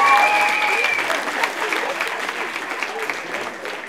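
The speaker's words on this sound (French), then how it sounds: "j'aimerais bien qu'on nous applaudisse, c'est pas facile" Audience applause at a theatre show for a crowd of about 250, a short burst of steady clapping with a few voices mixed in.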